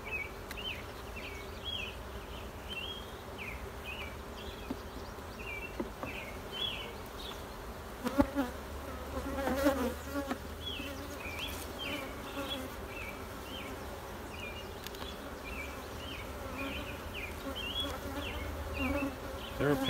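Honey bees buzz around an opened hive during a honey harvest and queen check, a dense, continuous close drone with individual bees zipping past, and occasional handling noises.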